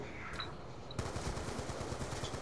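Gunfire from the Python revolver in Call of Duty Zombies, with a rapid run of repeated shots from about the one-second mark, steady and fairly quiet, over a constant game background.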